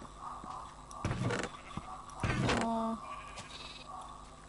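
Sheep bleating in Minecraft, two short wavering bleats in quick succession, close and clear, over quiet background game sounds with occasional speech.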